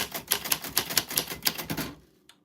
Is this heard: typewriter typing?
yes